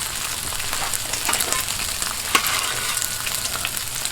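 Hash browns sizzle on a Blackstone griddle as a steady, crackling hiss that holds close and even, with small pops and one sharper crackle midway and no talking.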